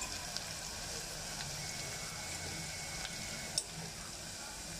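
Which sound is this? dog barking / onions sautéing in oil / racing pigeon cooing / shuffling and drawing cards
onions sautéing in oil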